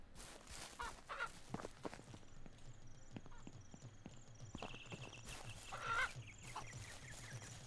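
Chickens cluck softly in the farming game Ranch Simulator, with scattered clip-clop and footstep-like knocks and some background noise, fairly faint overall.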